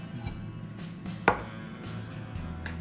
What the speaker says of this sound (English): we're gonna chop up our onion and garlic that we're gonna add to the beef mix